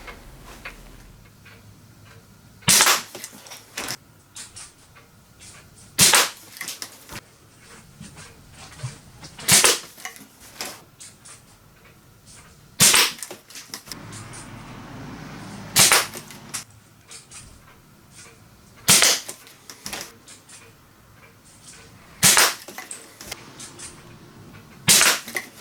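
Eight sharp, loud shots from a Webley Junior break-barrel spring piston air rifle, fired one at a time at a steady pace about three seconds apart, each a crisp crack with a short decay over a quiet background.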